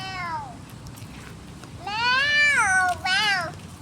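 A person imitates a cat's meow with their voice, giving two drawn-out, rising-and-falling mews close to the microphone, the second longer and broken briefly near its end.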